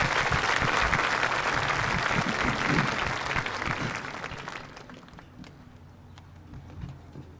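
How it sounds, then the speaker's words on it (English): Sustained applause from an audience at a senior awards ceremony honoring award recipients, loud and dense at first, then thinning and fading to a few scattered claps. "Please give them a round of applause."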